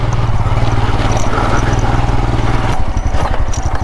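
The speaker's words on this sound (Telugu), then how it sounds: "ఇది అడ్వెంచర్ బైక్ కాబట్టి సింపుల్గా అయితే రాళ్ళు కొండలు సింపుల్గా ఎక్కేస్తుంది." Royal Enfield Himalayan adventure motorcycle engine thumping during off-road riding, a loud, close single-cylinder putter that holds steady and then shifts to a choppier, pulsing beat near the end, with no speech over it.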